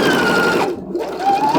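A sewing machine backstitches along a lapped zipper, a steady close-up mechanical whir that runs loud, dips briefly near the middle, then resumes.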